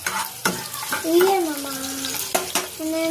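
A small child stirring food in a frying pan, scraping clatters over a light sizzle, with high childlike voices chattering and tonal vocal sounds between the strokes.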